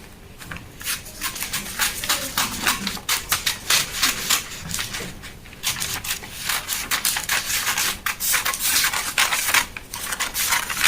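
Scissors cut through fabric for an origami sleeve in bursts of close, rhythmic snipping and rubbing, pausing briefly midway before resuming.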